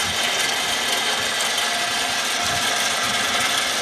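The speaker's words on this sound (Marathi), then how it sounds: "त्या ठिकाणी एक मशीन लागलेली आहे, या मशीनच्या सहाय्याने शेण आणि पाणी हे एकत्र केल्या जाते।" A machine at a biogas power-generation plant churns cow dung and water together, giving a loud, steady mechanical grinding and rattling that runs without a break, with no voices.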